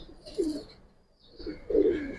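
A pair of Bagha and Silver Giribaz pigeons, male and female, cooing close by: two distinct throaty coos, one early and a louder one near the end, separated by a brief quiet gap.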